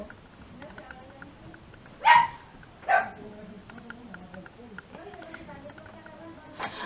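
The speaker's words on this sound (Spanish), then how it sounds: "Está ladrando el perro." A dog barks twice in quick succession, fairly close, over a quiet indoor background with faint murmuring, followed by a few softer yips.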